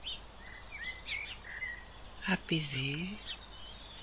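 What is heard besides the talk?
birds singing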